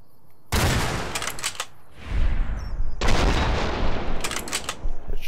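Gunfire in Fallout New Vegas aimed at a Deathclaw: two loud, sustained bursts of rapid shots with booming low-end impacts, separated by a short lull, with no talking.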